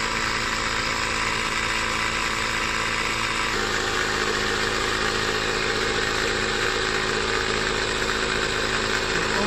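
A cheap Oasser portable air compressor inflating a tire runs as a steady, loud, close mechanical drone with a fast chugging vibration, unbroken for the whole stretch and shifting slightly in tone partway through, with no voices.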